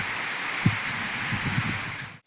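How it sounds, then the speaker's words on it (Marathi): A soft, steady patter of light unseasonal rain falls on a napier grass field, with a few faint low thumps, then it cuts off abruptly. "आता थोडा पाऊस थोडा थोडा चालू आहे"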